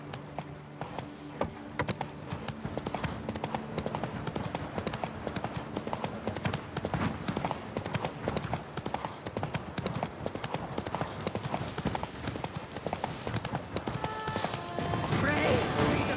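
Roach the horse galloping in The Witcher 3: Blood and Wine, rapid continuous hoofbeats thudding close and loud throughout, with a neigh and jangling tack, under game voices and shouting.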